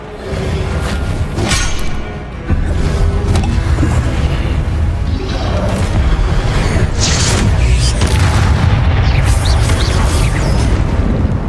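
Magic spell effects from Hogwarts Legacy on PS5, including the Reparo repair spell: booming, whooshing and crashing bursts with mechanical clatter over a dense, continuous game soundscape, loud and close throughout.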